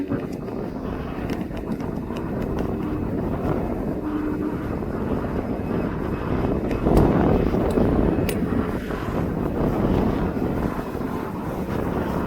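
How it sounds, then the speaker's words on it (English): Wind buffets a microphone and tripod outdoors at East Midlands Airport, a steady loud rumbling roar with gusts swelling midway, likely mixed with distant aircraft noise. "The wind keeps blowing it at the moment."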